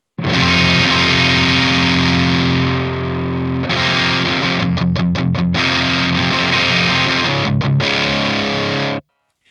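A crunchy, overdriven electric guitar through a Synergy Diezel preamp module plays loud sustained chords, then a brief choppy run of muted strums before ringing out and cutting to silence.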